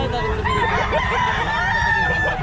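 Hatch Gray gamecock roosters at a busy fowl sale, with overlapping crowing and clucking filling the space and people talking throughout.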